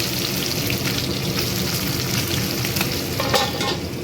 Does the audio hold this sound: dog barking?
no